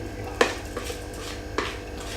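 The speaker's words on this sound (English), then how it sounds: "So let's get this bowl, let's just spoon it all on to the tray." Sticky, gooey pavlova meringue spooned from a bowl onto a tray, giving two soft, close clinks of the utensil against the dish over a quiet room hum.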